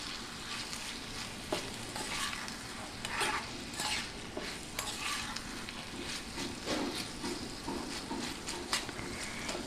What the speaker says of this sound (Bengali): টমেটো কুচিটা দিয়ে আবারও খানিকক্ষণ একটু নেড়ে চেড়ে নেব।